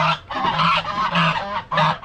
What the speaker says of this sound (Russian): Смотрите, какой гуси-лебеди, а